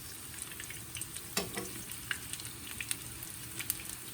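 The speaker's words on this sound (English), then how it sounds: "now we're going to leave them to fry until one of the sides is golden" Tiganites, Greek pancakes, fry in a pan with a steady close sizzle, dotted with small crackling pops and spits throughout, fairly soft, with no talk.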